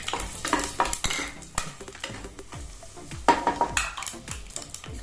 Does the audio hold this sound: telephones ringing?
no